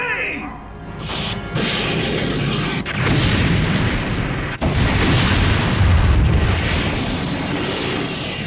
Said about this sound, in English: fire a missile at the bulkhead!